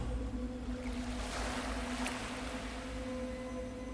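Gentle sea waves wash and swell in a calm dream sequence of the video game Lorelai, a steady soft surf hiss with a low rumble underneath, continuous and even, with a faint tonal drone beneath and no voices.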